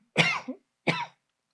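Two short, close coughs from one person, a harsher first cough and a quicker second one a moment later, in a quiet room.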